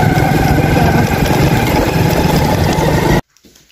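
A motorbike engine drones steadily while riding through a village on a cold evening, loud and close with wind rumble, then cuts off abruptly near the end.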